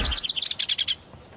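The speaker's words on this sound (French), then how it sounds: "Les oiseaux se remettent à chanter." Cartoon birds chirp in a quick series of bright, high tweets, about a dozen short notes in a bouncy rhythm that stop abruptly, fairly soft and alone.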